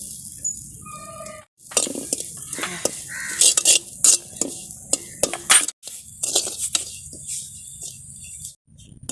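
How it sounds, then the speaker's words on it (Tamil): A quarter cup of grated coconut is dry-roasted in a pan with brisk, repeated spatula scrapes and clinks against the metal. A bird caws briefly before the stirring begins. "ஒரு கால் கப்பு தேங்காய் துருவி வச்சுருக்கேங்க அதையும் போட்டு வறுத்துக்கலாம்"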